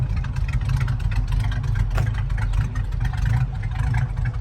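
A 1972 Chevrolet Nova SS with a dual exhaust idles steadily, giving a continuous low rumble at moderate volume that stays even throughout, with no voices.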